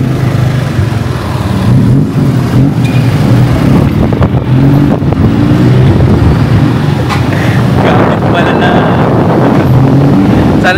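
Motorbike taxi ride through Bangkok traffic, with a steady loud engine drone and heavy wind buffeting the microphone throughout, while a voice talks intermittently over the noise.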